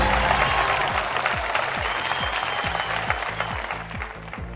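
Studio audience applause on a television quiz show, an even, sustained clapping crowd heard over a steady rhythmic beat of background music.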